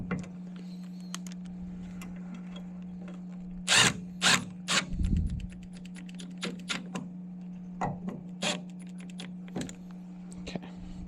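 A power drill drives screws during plumbing repair work on a hot water system, heard as several short, sharp whirring bursts spread across the stretch over a constant low electrical hum, with faint clicks and handling noise between them.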